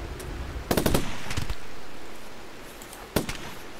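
Turret gunfire in the RimWorld game, with more turret defenses: a rapid burst of loud shots, a second shorter burst, then a lone sharp shot after a quiet stretch.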